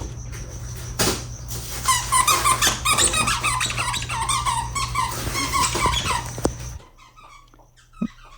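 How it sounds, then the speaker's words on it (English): Squeaky dog toys being chewed by dogs at an animal shelter, a dense run of rapid, high-pitched squeaks up close that stops abruptly near the end, leaving a quiet room and a faint thump. "the squeaking is making her nervous, and then we give them to two dogs that are going to town on the squeakers"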